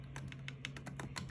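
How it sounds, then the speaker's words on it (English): Series of sharp, light plastic clicks from PS5 controller buttons snapping back into place during a stick drift repair, about eight quick taps spaced irregularly over a low steady hum, close and quiet, no talking. "We can snap our buttons back in"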